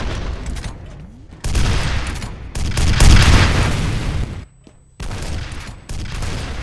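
Loud rocket blasts and heavy gunfire from the video game F.E.A.R., with thick booming bursts separated by brief quiet gaps, one blast swelling around the middle.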